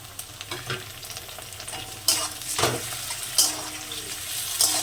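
Chopped tomato added to lightly browned onion in a pan, a soft sizzle with scraping stir strokes of a spoon, a few louder clatters standing out over the steady frying, no voices.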